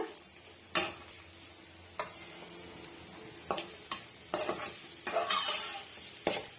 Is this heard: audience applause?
no